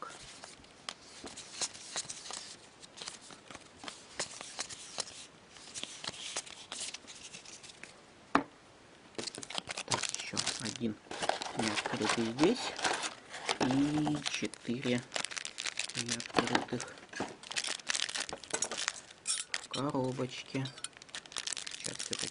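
KHL hockey trading card packs are torn open by hand, with continuous crinkling and ripping foil wrapper noise close up, one sharp snap partway through, and someone talking throughout.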